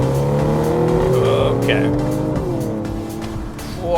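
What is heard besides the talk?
BMW M135i accelerating hard in sport mode after a downshift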